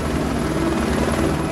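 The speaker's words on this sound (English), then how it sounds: "If the helicopter can't land here, Nicole will have to be carried an hour east" Helicopter hovering over a narrow rocky field, a steady loud rotor and engine roar filling the clip without a break.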